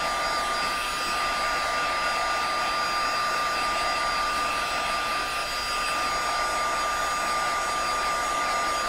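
A handheld blow dryer blasts air over wet paper, a steady unbroken whir holding a constant high whine, loud and close from start to finish with no voices.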